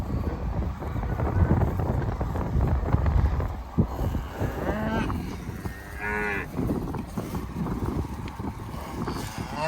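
Cattle mooing in a spring pasture, several loud, drawn-out calls from nearby animals over gusty wind noise on the microphone, with no talking.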